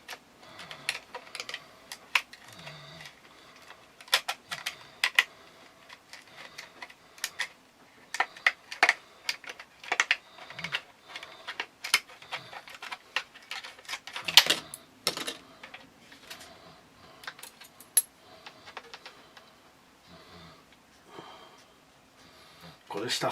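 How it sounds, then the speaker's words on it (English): Plastic sheet being cut roughly by hand for a Mora knife sheath, giving scattered close snips and clicks at an uneven pace, with a person talking faintly in between. "So I'm just going to cut it roughly."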